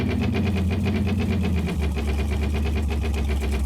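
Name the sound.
old truck engine idling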